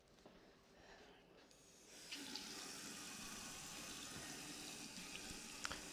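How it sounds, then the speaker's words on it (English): Hands being washed under a running tap, a faint, steady stream of water that swells after the first couple of seconds and continues with light splashing, alone without talk. "wash my hands"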